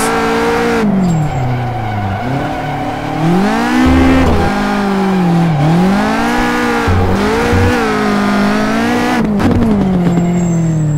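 A Caterham 620R thrashed around a kart track, its engine revving hard in repeated rising and falling surges with upshifts and lifts between them, loud and close, with occasional tire squeal.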